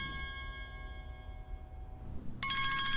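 A mobile phone rings with a bright, repeating electronic melody, cutting off and then starting again more loudly, indoors against a quiet background with no talk.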